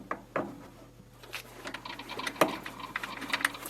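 A metal lathe makes an intermittent cut while threading a workpiece held in a steady rest, producing uneven, rapid ticking and chattering taps over a low motor hum, close and moderately loud.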